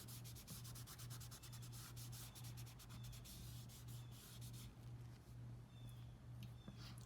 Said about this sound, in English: sort of taking the charcoal and filling a space, maybe rubbing that space to create that charcoal ground